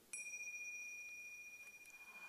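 A meditation bell struck once during a guided session, a clear bright ring with sustained pure overtones that hangs and slowly fades in a quiet room.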